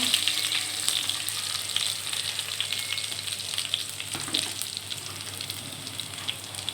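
Garlic, dried chili and bay leaf frying in hot oil in a pan, giving a steady, close sizzling hiss that carries on without a break.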